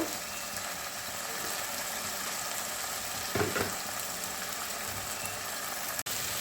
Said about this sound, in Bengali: এইবার দেখো মশলাটা ভালো করে কষাবো